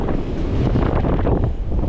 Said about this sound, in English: Today's a very windy day.